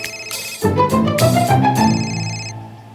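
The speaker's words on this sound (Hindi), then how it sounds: "रोज इसी टाइम फोन करके मुझे डिस्टर्ब करते हैं।" A phone ringtone plays a bright, melodic electronic tune in a domestic scene from an Indian TV serial, loud and close. It repeats its short phrase for about two and a half seconds and there is no talk.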